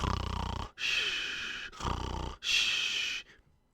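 A voice imitates snoring: two long, rasping inhaled snores, each followed by a breathy exhale, slow and rhythmic, close to the listener.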